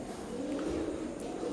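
Imported-bloodline Teddy pigeon squabs coo softly in a low, rounded murmur that stays close and continuous through a brief moment, with faint background noise.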